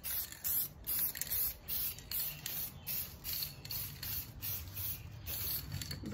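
An aerosol can sprays glossy black paint onto the skirting of a billiard table in short, repeated hissing bursts with brief pauses between them, quiet and close.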